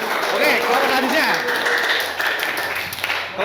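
A group of students in a Qur'an Hadith class receives a short burst of clapping, and a voice talks over the applause the whole time.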